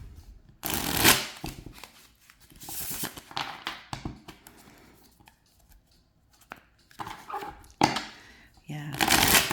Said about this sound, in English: as always, as is typical with other Artisan decks, it's a nice shuffle